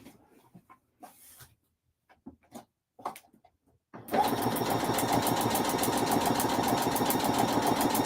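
A sewing machine stitching a foundation paper pieced quilt block, starting after a few soft handling clicks and then running in a fast, steady, loud mechanical rattle to the end.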